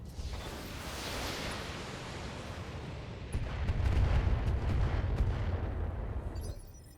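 Mech weapons firing in the BattleTech video game, a sustained roar of heavy barrage fire that swells louder midway with rumbling explosive bursts, loud and dense, then cuts off abruptly near the end.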